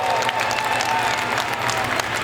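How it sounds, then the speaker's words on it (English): An outdoor crowd at a balloon festival claps steadily and fairly loud for a couple's 44th wedding anniversary, with a few scattered cheers in the sustained applause. "Everybody give them a great big cheer for 44 wonderful years."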